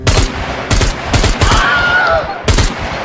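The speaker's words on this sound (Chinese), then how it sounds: "没办法开镜射击，只能盲射" Unaimed blind-fire gunshots in the survival game SCUM, five sharp bursts spaced irregularly across a few seconds, loud and close, with a brief whining sound in between.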